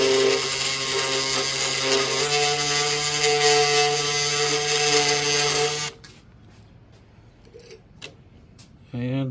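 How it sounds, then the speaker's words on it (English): A Dewalt 20-volt brushless oscillating tool sands a wooden entryway table, giving a loud, steady buzzing drone for about six seconds before cutting off, followed by quieter handling noises and a brief restart at the end. "Love my Dewalt oscillating tool."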